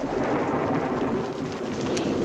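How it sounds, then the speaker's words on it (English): A thunderstorm rumbles with a low, continuous roll of thunder beneath steady heavy rain, loud and unbroken throughout, with no voices. "The storm will likely be over by the time dinner's finished."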